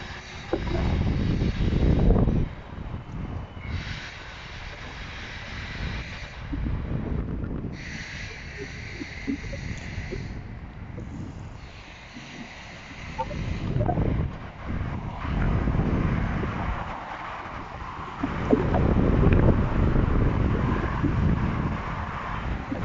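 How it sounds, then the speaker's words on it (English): Strong gusty wind buffets the microphone at a construction site, roaring in uneven waves with brief lulls, loud and close. "the wind is blowing me all over the place at the moment."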